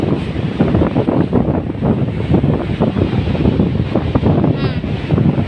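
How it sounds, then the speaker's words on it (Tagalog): Big waves breaking on a beach shore as the tide rises, a loud continuous rushing wash buffeted by strong wind across the microphone, with no clear individual crashes standing out. "Pataas na yung tubig. Malakas lang yung alon."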